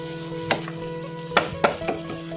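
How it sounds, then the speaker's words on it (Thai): Young coconut shoot curry with chicken being stir-fried dry in a pan, with a soft steady sizzle and a few distinct scrapes and knocks of a utensil against the pan at irregular intervals. "พี่ก็จะผัดเป็นแห้งๆแบบนี้นะครับ"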